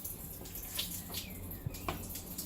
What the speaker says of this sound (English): And all the water's coming out there.